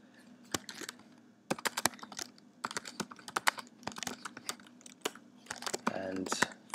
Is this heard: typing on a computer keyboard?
yes